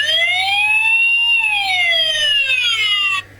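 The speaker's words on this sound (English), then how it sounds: "he has the siren sound" A Transformers Dark of the Moon Leader Class Sentinel Prime toy plays its electronic siren, a loud wailing tone that rises and falls for about three seconds before cutting off abruptly.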